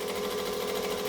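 A domestic sewing machine stitching fabric for a bag runs steadily and close, a continuous mechanical whir with an even buzzing hum throughout, no voices over it.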